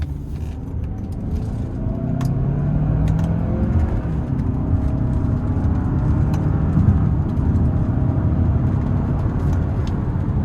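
From inside the cabin, a 2026 Hyundai Santa Fe Limited 2.5T AWD accelerates hard. Its engine drone climbs in pitch through gear shifts, loud and continuous, with no one speaking.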